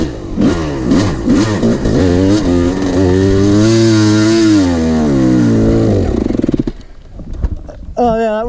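A Yamaha YZ250 dirt bike with a blown top end revs hard, its nasal two-stroke whine rising and falling in loud sweeps for about six seconds before cutting out to near quiet, with a brief noise at the end.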